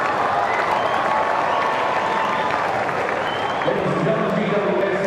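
A large crowd at Skoda Stadium applauds and cheers steadily through an AFL match between GWS and Adelaide, a dense wash of clapping with commentators talking over it.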